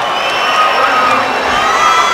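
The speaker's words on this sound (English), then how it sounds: "You can hear the crowd." Crowd cheering at a women's MMA fight as it is stopped, a loud continuous roar of shouts and whoops sustained throughout, with no clear voices over it.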